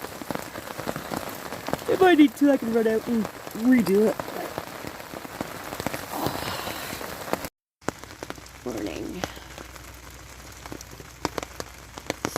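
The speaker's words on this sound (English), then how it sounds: "Still raining." Steady rain patters on a backpacking tarp during a windy spring solo trip, a continuous hiss throughout, with someone speaking briefly over it early on.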